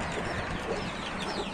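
Broody Gurk hen clucking steadily with her hatched chicks, a close, continuous stream of soft fowl clucks and chirps with no talking.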